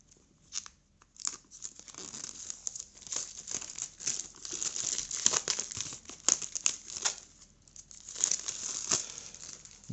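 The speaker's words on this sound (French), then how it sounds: "On va déballer ça de suite." Plastic wrap being peeled and torn off a lenticular steelbook Blu-ray edition, a close, quiet stream of crinkling and crackling with sharp rips.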